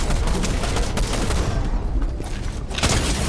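Rapid gunfire from a Fortnite match, a dense burst of loud shots filling the whole stretch with a brief lull near the middle before another sharp volley.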